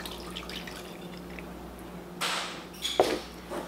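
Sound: pouring water into sourdough starter

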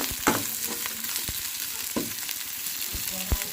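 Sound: green chillies frying in pan for chicken curry

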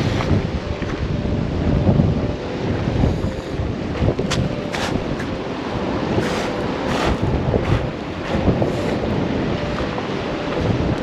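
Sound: wind blowing on a seaside road

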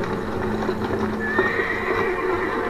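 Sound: horse neighing in the video game Amnesia: The Dark Descent

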